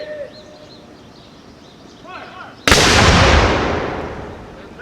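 A single loud cannon shot from a historical light artillery piece at an outdoor reenactment event, a sharp boom with a long rolling decay after birdsong and quiet background.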